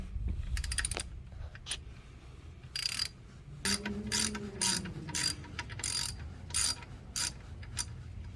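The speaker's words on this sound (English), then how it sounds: "We're using a 14 millimeter to unscrew. 14 millimeters for the IS-250." A ratchet wrench with a 14 mm socket loosening the oil drain plug on a Lexus IS 250 oil pan, giving repeated bursts of fast metallic clicking between short pauses, close by with no talking.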